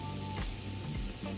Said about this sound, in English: I'm gonna let these saute down a little bit till they become translucent